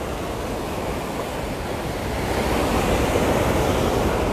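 River water rushing past steadily in Pakistan, a broad continuous wash of flowing water that swells slightly louder midway, close and alone with no voices.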